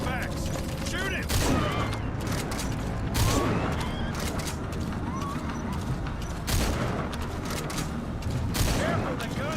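Heavy gunshots from a weapon in Metal Gear Solid V land as several loud, spaced blasts amid mechanical clatter and ambient game noise.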